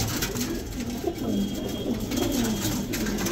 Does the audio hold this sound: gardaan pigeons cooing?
yes